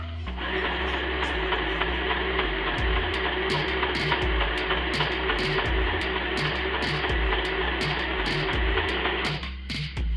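A sewing machine stitches through a folded paper zine booklet, its motor humming loud and steady while the needle taps in a fast, even rhythm for about nine seconds before slowing and stopping; no talking.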